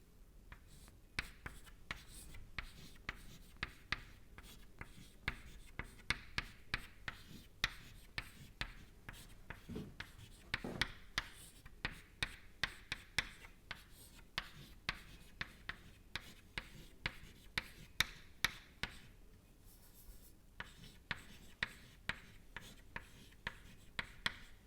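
Steady scratching and tapping of writing on a lecture board runs for about twenty-five seconds in a quiet room, with rapid strokes and short pauses at close, moderate volume.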